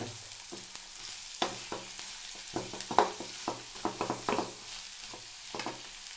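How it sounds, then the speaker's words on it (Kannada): Vegetables frying in a pan for egg rice, a low sizzle under a busy run of spatula scrapes and knocks against the pan, close and uneven in rhythm, no voices. "ಪೂರ ಜಾಸ್ತಿ ಫ್ರೈ ಮಾಡ್ತೀನಿ ಫ್ರೆಂಡ್ಸ್."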